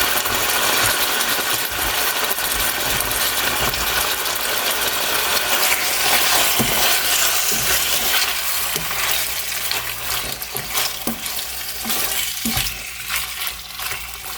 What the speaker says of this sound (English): let's go ahead and get this meat browned up